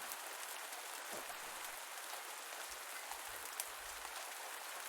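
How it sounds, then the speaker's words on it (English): Steady rain falls on Pumpkin Days farmland in a quiet, even hiss of dense drops with a few low thumps and no voices. "This is what happens when it's raining."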